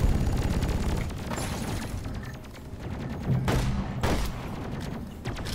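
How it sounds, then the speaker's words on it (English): Dense gunfire and shotgun blasts in the video game Deep Rock Galactic, rapid overlapping shots and booms in continuous combat, loud and close throughout. "Shotgun's actually doing pretty good there."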